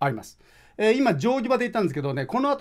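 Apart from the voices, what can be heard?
None of the usual background noises is heard.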